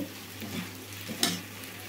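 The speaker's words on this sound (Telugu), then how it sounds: "ఇట్లా కలుపుతా వేయించుకోండి." Baby potatoes and onions stir-fry in a hot pan, a soft steady sizzle with a sharp scrape of the spatula near the end, no voices.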